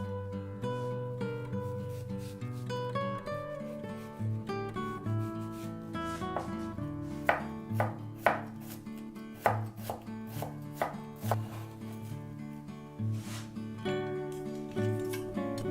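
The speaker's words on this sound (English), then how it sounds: "mince the shallot" Knife mincing a shallot on a cutting board, a steady run of quick chopping taps with sharper, louder strikes later on, heard over continuous background music.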